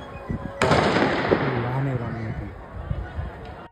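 A police gunshot cracks out sharply in the open street, a single loud report followed by lingering echo, with people talking and shouting throughout.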